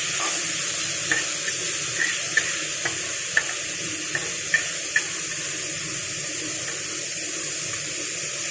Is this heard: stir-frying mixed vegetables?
yes